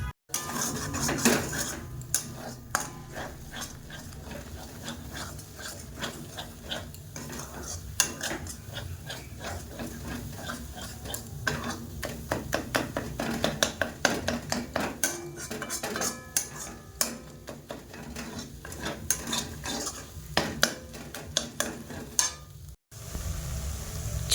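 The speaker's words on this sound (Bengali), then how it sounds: "চলো ঝটপট করে আগে ডিমটা ভেজে নিই" Egg frying in a wok in a home kitchen, with a soft sizzle under frequent sharp metallic clatter of a spatula scraping and tapping the pan, close and busy throughout.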